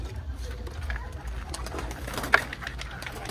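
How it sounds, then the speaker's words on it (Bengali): Pigeons coo softly at a loft where high-flying pigeons are kept, faint under a low background rumble, and someone talks nearby. "এই নামতেছে কবুতরটা"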